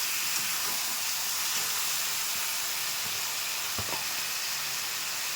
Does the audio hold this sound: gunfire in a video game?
no